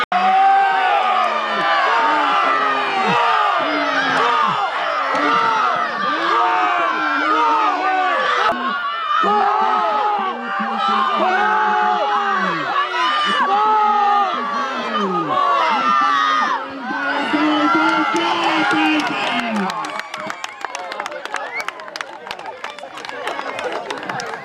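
A crowd at a 1965 village games event cheers and shouts for the Nunburnholme team, with loud overlapping voices and calls throughout and clapping rising toward the end.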